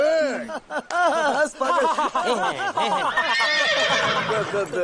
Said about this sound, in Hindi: वैसे सर बहुत अच्छा घोड़ा है आपका।